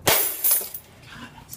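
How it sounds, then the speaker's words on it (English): Keys strike a metal magnetic door lock on a building's doors, giving a couple of sharp, loud metallic clanks near the start, followed by fainter rattles and a quieter tail. "Wow, the keys hit the metal thing. That's so loud."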